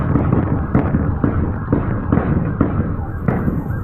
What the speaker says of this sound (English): What sounds like fireworks is a firefight. Police raining bullets on that SUV.